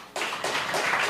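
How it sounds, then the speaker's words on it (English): Open mic audience applauding a performer, a burst of clapping that starts abruptly and stays dense and steady, loud and close with no talk over it. "Could we have another round of applause for David?"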